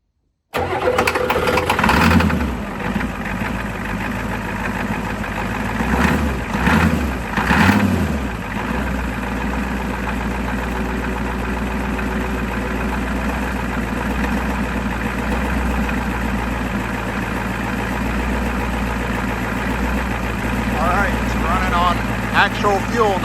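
A cheap, worn diesel truck cranks and fires up, running on tank fuel through a mechanical pump, and settles into a steady, loud, close clattering idle with a few rev surges early on, while a person talks over it.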